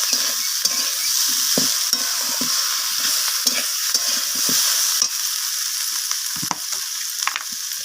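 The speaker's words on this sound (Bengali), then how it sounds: "আদা বাটাটা দিয়ে আমি আবারও নাড়াচাড়া করে নিচ্ছি" Ginger paste fries in a pan while being stirred, a loud continuous sizzle layered with repeated scraping and clicking strokes of a spatula against the metal, no talking.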